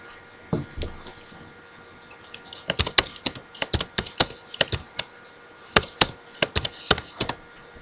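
Computer keyboard keys tapped for data entry into a spreadsheet, in irregular bursts of sharp, close clicks with short pauses, fairly loud and with no talking.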